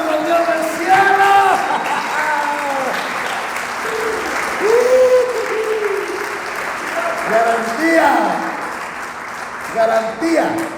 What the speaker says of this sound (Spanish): ¡Le palmas al Dios del cielo!